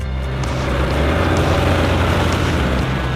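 A Fiat 70-90 tractor works a sugar beet field topping the crowns, with its engine giving a loud, steady, unbroken close drone throughout.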